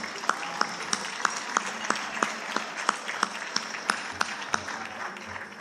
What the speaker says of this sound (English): Let's give the kids another round of applause.